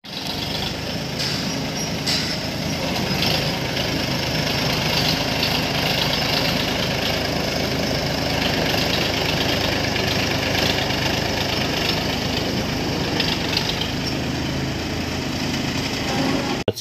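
A tractor pulling a mesh-caged trolley idles with a steady, even diesel chug and faint knocking, continuous and fairly distant for the whole stretch, with no voices.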